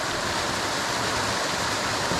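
Small woodland stream spilling over a little waterfall, a steady, even rushing of water close by with no other sounds.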